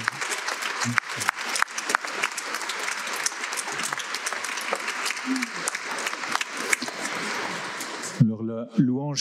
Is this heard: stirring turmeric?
no